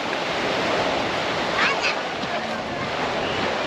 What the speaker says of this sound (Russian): волна идет накатом прям таким хорошеньким